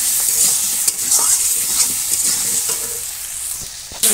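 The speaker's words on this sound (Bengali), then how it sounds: "তারপর জিরে আলু লঙ্কা দিয়ে লবণ হলুদটা দিয়ে এটা একটু কষাবো।" Potatoes sautéing with cumin, chili, salt and turmeric in a pan in a village kitchen, a steady close sizzle and hiss with soft stirring scrapes throughout, no talking.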